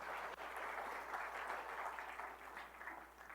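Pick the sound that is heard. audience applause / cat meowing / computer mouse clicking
audience applause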